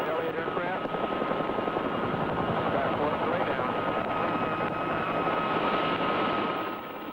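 Military rescue helicopters in flight, a loud, continuous rotor and engine drone with a steady throbbing beat that holds evenly from start to end and fades slightly at the close.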